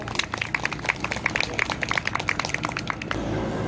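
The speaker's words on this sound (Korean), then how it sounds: "큰 박수로 정상원 지부장님 모시도록 하겠습니다." A crowd at an outdoor memorial rally outside the Samsung main gate, marking five years since a crane disaster, applauds in a dense, even stream of claps that stops abruptly after about three seconds.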